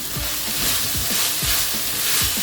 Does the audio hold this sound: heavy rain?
no